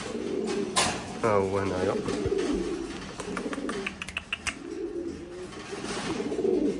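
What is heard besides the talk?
pouter pigeons cooing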